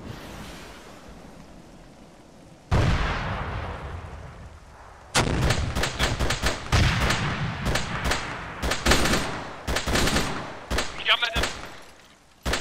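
Loud bursts of gunfire and heavy artillery-like booms in the military shooter Arma 3, following a stretch of rumbling ambience, with rapid cracking shots densely packed through the second half.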